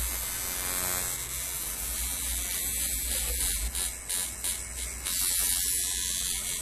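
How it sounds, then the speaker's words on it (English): A 1980s tattoo shading machine fitted with seven flat-row needles buzzes steadily and close, a continuous electric whine that flutters slightly as it works, with no speech. "We use a shading machine just to fill it in"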